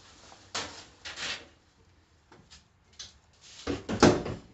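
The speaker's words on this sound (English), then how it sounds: "Close and lock that door." A washing machine door is shut and locked while horse blankets are being washed: a few separate thuds and latch clicks, fairly close, with quiet gaps between them.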